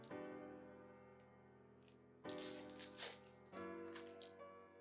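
A red onion being peeled by hand, with dry papery crackles and crunchy tearing of the skin up close, in a few distinct bursts.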